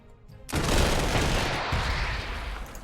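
A sudden, loud burst of infantry gunfire in the Panzer Corps 2 strategy game erupts after a brief near-silence, then rolls on as dense, crackling volleys that slowly fade.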